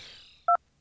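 A dial tone in the Starbound video game: one short, clean electronic two-tone beep, brief and isolated after a fading soft tail, then silence.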